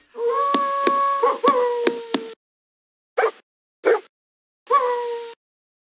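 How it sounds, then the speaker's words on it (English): A dog in a video game howls and yips in a long drawn-out burst, then three short sharp barks or yelps follow after brief pauses, close and clear. "why do we have to recruit a dog when all it does is just bark?"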